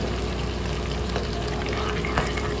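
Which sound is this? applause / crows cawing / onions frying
onions frying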